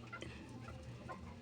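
Chicken clucking softly in short, irregular bursts, faint and a little distant against low background noise.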